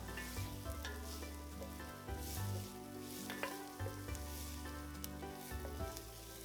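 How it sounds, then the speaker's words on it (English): Onions cooking in olive oil for a vegan Tuscan potato soup, a loud, continuous close sizzle with occasional stirring scrapes and a low background hum. "add a little more olive oil if you need it, then cook the onions until almost translucent"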